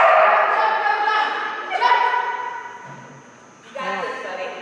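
A cow dog letting out a few loud, drawn-out yelping barks and whines, close by, in short bursts separated by brief pauses.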